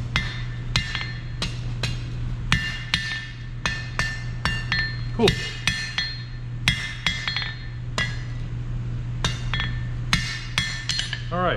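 A hammer forges the point of a steel blade on a blacksmith's anvil, with about twenty sharp, ringing strikes in an uneven rhythm over a steady low hum, close and loud with no talk.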